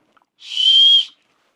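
A single short, shrill whistle blast from a hiking backpack's chest-belt whistle, high-pitched and steady, lasting under a second in otherwise quiet surroundings.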